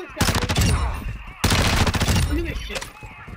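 Rapid sniper and automatic gunfire in the Call of Duty DMZ video game, two loud dense bursts of repeated shots, close and punchy, with a voice briefly under the firing.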